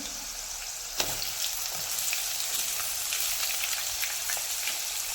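Chopped onion and green chili sizzle and fry in hot oil for a potato bhaji, a steady close crackling hiss with a single sharper pop near the start and no talking.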